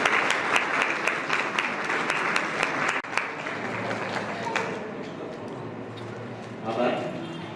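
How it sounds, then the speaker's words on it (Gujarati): A crowd at a retirement function in Dhrol applauds loudly and steadily for several seconds, then the clapping thins out and fades into quieter murmuring near the end. "બધા જોરદાર તાળીઓથી આપણે વધાવીએ"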